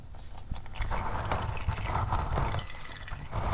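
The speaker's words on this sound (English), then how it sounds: "right now we're draining both the oil out of the oil pan and out of this filter housing here" Engine oil drains from the oil filter housing and oil pan of a VW Jetta TSI 1.4L turbo into a drain pan, a close, continuous patter of drips and splashing liquid.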